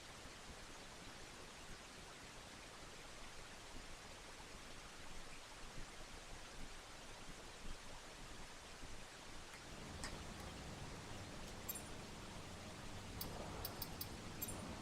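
Steady rain in the F1 23 racing game, a constant even hiss at low level that thickens slightly with a few added patters and ticks toward the end.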